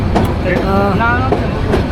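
The Bijoy Express train moves at a station in Bangladesh, a close rumble with wheel clatter and thin high squeals of steel on rail rising and falling over two seconds.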